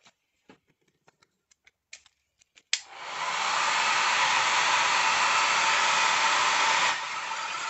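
A few faint taps and clicks give way to a hair dryer switching on, which blows a loud, steady rushing whoosh over an ink painting for about five seconds, easing slightly near the end.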